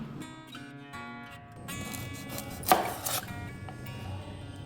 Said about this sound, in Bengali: পেঁয়াজটা একটু পাতলা করে কেটে নিতে হবে।